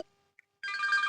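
A phone starts ringing abruptly after a brief quiet pause, a bright warbling electronic ring that continues steadily and fairly loud to the end.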